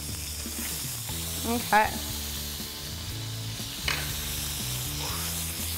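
Lamb chops fry in a greasy skillet with a steady, close sizzle and spatter throughout, while a voice speaks briefly.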